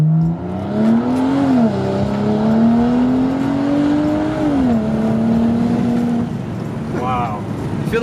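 A BMW 335i with an N55 engine, M-Sport kit and full bolt-on modifications revs loudly and close up, its pitch climbing, dipping and holding over several seconds before easing off near the end.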